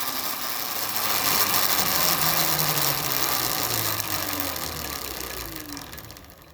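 An electric motor fitted to a dirt bike, running on one phase with no throttle, produces a loud continuous mechanical whir and rattle that swells, holds steady and then winds down slightly.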